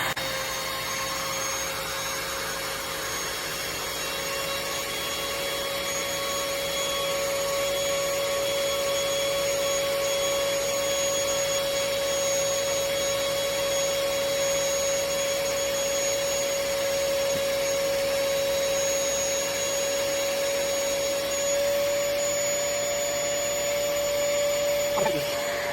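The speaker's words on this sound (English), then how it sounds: "to deflate it, you just turn this knob clockwise. And just let it go and it does its thing." Built-in electric pump of a KNZZO queen air mattress running steadily while deflating it, a constant close whirring drone with a high tonal whine that holds level throughout without pauses.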